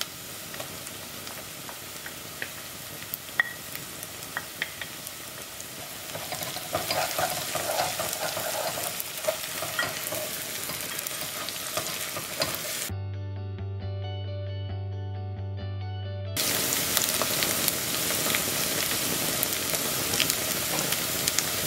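Onions sautéing in a pan, followed by ginger garlic paste frying and being stirred, a steady close sizzle with stirring scrapes that grows louder when the paste goes in, interrupted briefly by a humming electronic tone.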